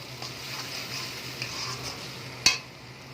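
Spice paste for a chicken kofta curry sizzles gently in oil in a pan, a soft steady frying hiss with light stirring scrapes and one sharp clack of the utensil against the pan near the end.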